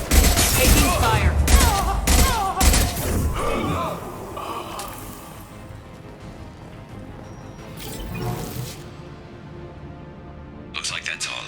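Gunfire and explosive impacts from a Mass Effect 2 Legendary Edition firefight, loud dense bursts with crashes in the first few seconds, then fading to quieter sporadic shots and a late burst, with game dialogue over the action.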